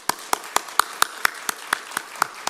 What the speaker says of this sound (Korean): 우리 감사의 박수 한번 보내드리면 좋겠습니다